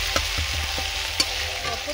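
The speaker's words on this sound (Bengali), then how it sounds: "ভালো করে মশলা আমি ভেজে নেব।" Spice paste frying in a little oil with chopped coriander leaves, a steady close sizzle broken by several soft scraping stirs of a spoon against the pan, with no voices.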